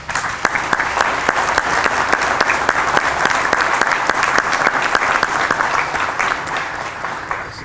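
Applause for first responders at a September 11 remembrance ceremony in Belleville, Illinois: a large crowd claps steadily and densely for the full length, loud and sustained without a break.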